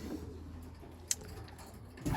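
Young racing pigeons in their loft give soft, faint cooing against a quiet background, with a brief sharp click partway through and a rustle near the end.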